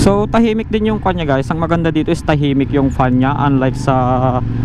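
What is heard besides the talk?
None of the usual background noises is heard.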